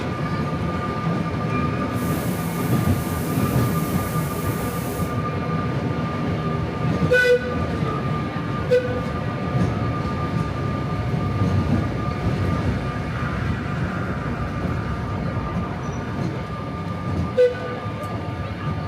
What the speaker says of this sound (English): I then walked back to the station where I got on the tram to go to Port de Sóller.